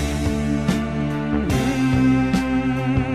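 Steady layered humming tones in a song, evoking droning air conditioner units, sustained and loud with sliding pitch shifts and no speech over them.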